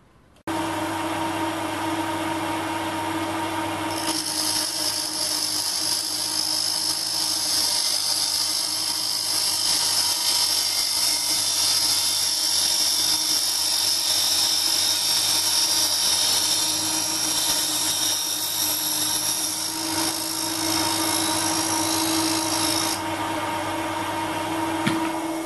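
A 775 DC motor drives a twin-chuck Machifit power spindle, running at a steady, even speed with a constant high-pitched whine and hum that holds for the whole stretch, close and alone with no voices.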